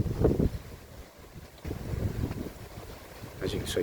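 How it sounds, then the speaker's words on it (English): Gusty wind buffets the microphone at a breezy seaside holiday spot in Britain, rising and falling in rumbling waves, with a person talking briefly over it. "Very breezy"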